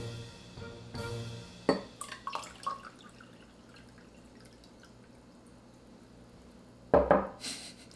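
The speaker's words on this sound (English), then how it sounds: "These are not the ideal cups to pour. You can see them spilling everywhere." Water poured between cups and spilling over, with splashy bursts around the start and again near the end, plus scattered drips and clinks of cups in between.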